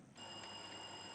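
A quiz contest buzzer at the 2021 National Science and Maths Quiz preliminaries in Ghana cuts in sharply and holds as a steady electronic tone, fairly faint, with no talking.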